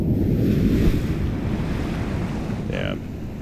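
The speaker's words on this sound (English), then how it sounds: "Yeah, the waves are building up." Steady roar of surf and waves washing in, with heavy wind buffeting the microphone throughout.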